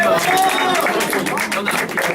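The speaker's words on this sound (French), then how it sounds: "Vous pouvez applaudir" Audience at an illusionist's stage show clapping and cheering, a loud, close burst of hand claps mixed with crowd voices that carries on steadily across the moment.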